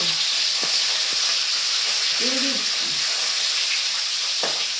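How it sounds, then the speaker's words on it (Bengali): Fish frying in a new wok (kadai), a steady close hiss of hot oil with scattered sharp pops and spatters, no voices present. "মা মাছ দিচ্ছে। বাবা রে, এগুলো যা ফাটে।"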